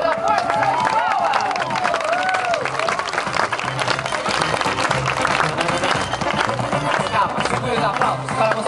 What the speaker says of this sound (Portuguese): Vamos lá, pra todo mundo aplaudir, bem bonito.